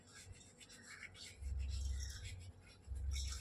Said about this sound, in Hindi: इसे थोड़ा सा हाथों से क्रश कर लेंगे